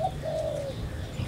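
A single soft zebra dove coo, a gentle descending note, close by in an aviary over a low background hum.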